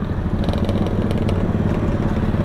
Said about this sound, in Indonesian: ini kayaknya laju nih motornya